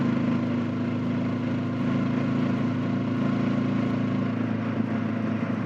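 A Honda NX500 motorcycle engine runs with a steady, close, even drone, holding a constant pitch with no distinct rises, and no voices on top.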